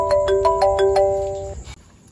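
A phone ringtone plays a short repeating electronic melody of bright tones, then stops, with nobody talking.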